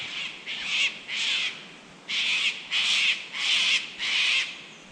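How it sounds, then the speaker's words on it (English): Cockatoos beside a creek give a run of harsh squawking calls, seven loud rasping bursts in uneven succession with short gaps between them. "Those cockatoos sound annoyed."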